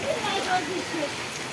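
Steady, dense roar of heavy rain driven by strong wind in a village storm at Vejalka, Botad district, continuous and close, with a faint voice partly buried beneath it.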